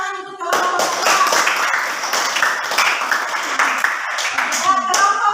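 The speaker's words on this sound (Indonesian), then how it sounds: "kita kasih tepuk tangan untuk kelompok keempat" A classroom audience claps for a presenting group, dense mixed hand claps sustained for several seconds with a brief voice at the start.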